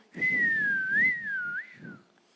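A single wavering whistle imitating wind whistling on a roof, sliding up and down in a long, eerie tone, performed alone by a voice.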